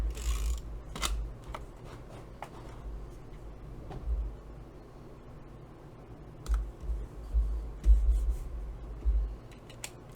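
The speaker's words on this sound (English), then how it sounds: "If you want to round your corners, make sure you do that." Small corner rounder punch working through the corners of an artist trading card, giving a few sharp, close clicks and crunches spread unevenly over a quiet background.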